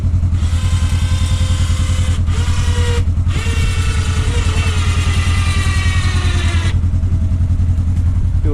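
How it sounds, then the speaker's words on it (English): An auxiliary winch hooked to a tree pulls under load, a steady motor whine riding over a low engine drone, briefly dropping out twice before continuing and then easing off. "We got our winch hooked up to a tree."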